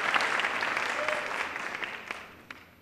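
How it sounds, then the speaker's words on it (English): A crowd applauds at a 2015 Martin Luther King, Jr. Convocation, with a dense wash of clapping that holds steady and then gradually fades over a few seconds, with no voices over it. "So give her another round of applause,"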